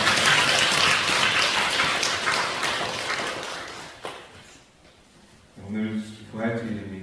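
Church congregation applauding during an Easter Sunday worship service, a dense crowd clapping loudly for about four seconds, then fading, followed by someone speaking.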